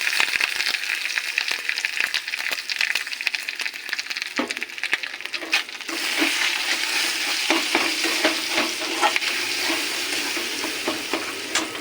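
Ground green pea paste sizzles in hot oil in a pan as it is stirred, a steady frying hiss broken by repeated scraping strokes, close and fairly loud with no voices.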